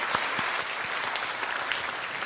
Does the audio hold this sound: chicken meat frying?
no